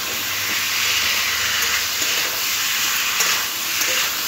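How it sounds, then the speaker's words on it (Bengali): Taro and potato frying with spices in a pan, a steady close sizzle and hiss with occasional stirring scrapes throughout, no talking. "এরপরে দিয়ে দেব কচু আর আলুটা, দিয়ে মশলার সাথে ভালো করে আরও একবার কষে নেব।"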